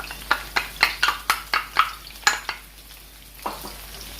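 Scallion, Scotch bonnet pepper and onion are sautéed in a pan, a soft sizzle under a run of sharp utensil scrapes and taps that come in a quick series, then pause before one last stir, close and quiet.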